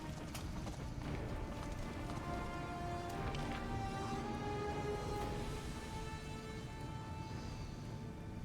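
Hooves clip-clop at a steady trotting rhythm throughout, a horse gait in Pathfinder: Wrath of the Righteous, with faint background ambience and no talking.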